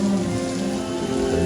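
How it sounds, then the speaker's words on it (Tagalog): Heavy rain pours steadily on a surface on Boracay in the Philippines at night, a loud, dense, continuous hiss without pause. "Napakalakas ng ulan tsaka kidlat at kulog yung gabi na yon."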